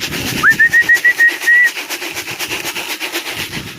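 Pigeons coo in a steady, pulsing rhythm of soft throaty notes, close by, with a thin high whistle briefly riding over the first half.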